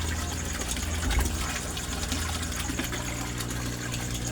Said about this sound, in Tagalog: ang ginagamit ko na submersible pump or water pulse. Ang lakas-lakas niya pero ang hina niyang kumain ng kuryente